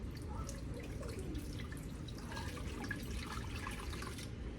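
Hot water pours into a skillet with a continuous splashing trickle of liquid over a few seconds, close and moderately loud, with no talking.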